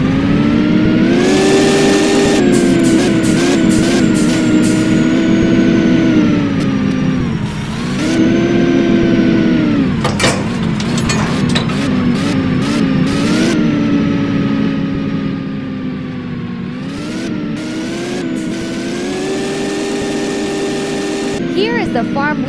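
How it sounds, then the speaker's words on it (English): A farm tractor's engine runs steadily nearby while the mower is hitched to it, holding a loud, constant drone with some shifts in pitch and a brief dip partway through. "Let's hop in tractor and attach the mower."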